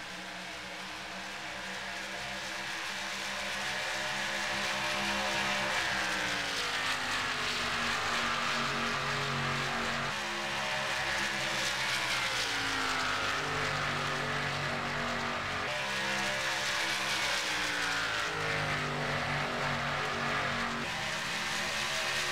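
A race car from a racing video game laps a track in a K&N Series race at Michigan, its engine a loud, continuous drone whose pitch climbs and falls through shifts and corners, with no talk.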